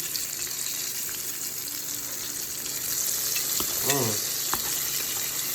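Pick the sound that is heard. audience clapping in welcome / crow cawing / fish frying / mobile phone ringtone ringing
fish frying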